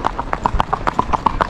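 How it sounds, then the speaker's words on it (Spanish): Hooves of an Andalusian colt clip-clop in a steady, even rhythm, about a dozen crisp, close hoof strikes on firm ground at a calm pace. "Mire qué tranquilo va el potro."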